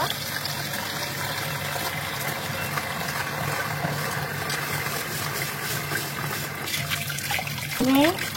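Broken rice grains are washed in water, with close sloshing and trickling throughout that swells into a louder splash near the end.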